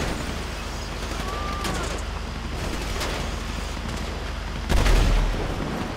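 A tank firing along with gunfire in Grand Theft Auto 5, a constant rumbling battle din with crackling shots throughout and a heavy booming blast near the end.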